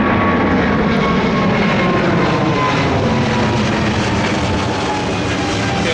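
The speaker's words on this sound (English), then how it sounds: "there's a plane going by" An airplane passing overhead outdoors on a wet day in Japan, a loud, steady broadband engine roar that holds evenly for several seconds with no voices.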